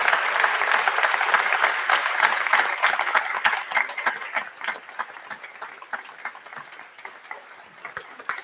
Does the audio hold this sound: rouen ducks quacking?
no